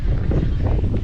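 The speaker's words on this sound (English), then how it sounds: "it's a bit windy" Heavy wind buffets the microphone in continuous low, rumbling gusts that fill the whole moment, outdoors in Malmö, Sweden.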